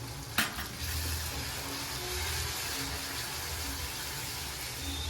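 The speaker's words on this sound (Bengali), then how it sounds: "মশলাটা কষাচ্ছি" Steady sizzling of spices being fried down in a pan for a chicken curry, with stirring scrapes and a sharp clink near the start, continuous and close.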